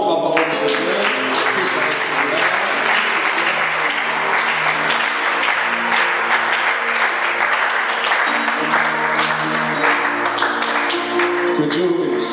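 A church congregation breaks into loud, sustained applause and acclaim for the word of the Lord after a sermon, dense clapping continuing evenly throughout with voices mixed in.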